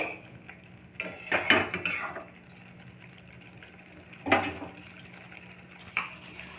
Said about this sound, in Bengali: চিনিটা দেওয়ার পর আবারও ভালোভাবে মিশিয়ে দেওয়া হচ্ছে